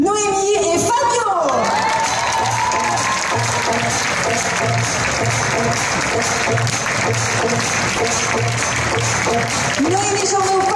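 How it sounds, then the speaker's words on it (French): An audience applauds Miss and Mister UCS 2016 at an event: sustained, dense clapping with some cheering, loud and continuous across the whole stretch, with a brief tone at the start and end. "on peut les applaudir"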